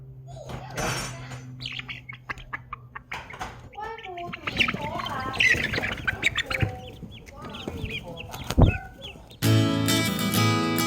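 Several chickens cluck and chirp close by in irregular bursts, with a voice speaking briefly among them and a loud tonal noise near the end.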